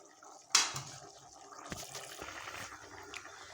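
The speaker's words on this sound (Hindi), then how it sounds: "अब इसमें अब हम चावल ऐड करते हैं।" Rice is tipped into a pot of boiling water while cooking vegetable matar pulao: a sudden splashing hiss at the start settles into a steady bubbling simmer, close and moderately loud, with no talk.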